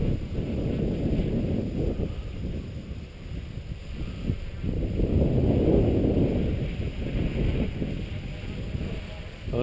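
Strong wind buffeting the microphone in loud, surging gusts that rise and fall steadily, with a faint high whine running underneath throughout.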